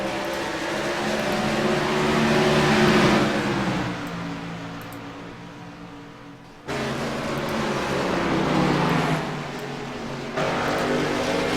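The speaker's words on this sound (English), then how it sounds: "you can't even hear yourself think them engines are so loud" Race car engines roar loudly and close, swelling and easing in long waves, cutting off sharply and then returning, with no voices over the din.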